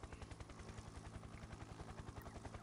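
Steady low rotor chop of a helicopter flying in the factory-building game Factorio, a continuous rhythmic thumping drone that stays even and moderately loud throughout, with no talk.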